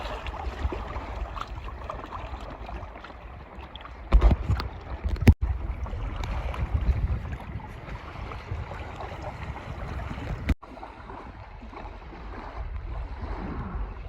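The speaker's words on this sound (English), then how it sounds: "I think we better slow the motor down a little." Small electric trolling motor on a DIY catamaran paddle board, heard as a steady low whir mixed with water rush and wind, with a couple of sharp knocks partway through and no talk.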